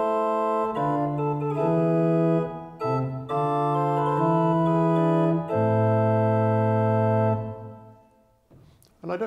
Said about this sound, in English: To that can be added the 4-foot flute,